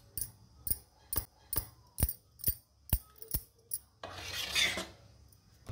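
A spoon taps and clinks rhythmically against a vessel about ten times while a pinch of baking soda is mixed into idli batter, followed by a brief scraping swirl, all close and fairly quiet.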